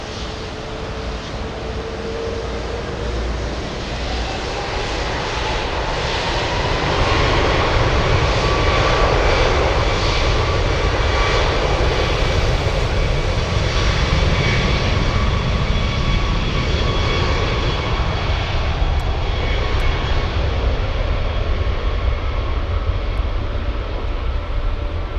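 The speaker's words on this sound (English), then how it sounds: "That A340-600 lining up on runway 18. And I think it's gonna go." An Airbus A340-600 four-engine jet takes off from runway 18 at Frankfurt Airport, its roar swelling after a few seconds into a loud, sustained rumble with a whining tone.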